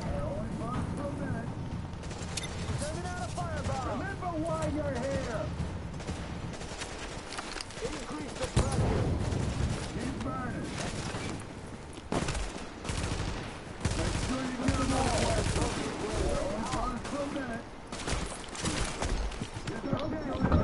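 Grenade blasts and rapid gunfire from The Division video game, dense repeated shots and bursts over roughly twenty seconds, loud and continuous, with voices talking at points over the battle.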